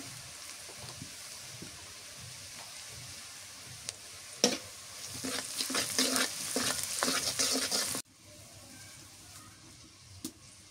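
Egg curry frying in a pan after turmeric powder goes in, with a hiss that swells into loud sizzling and busy stirring scrapes, then drops off abruptly.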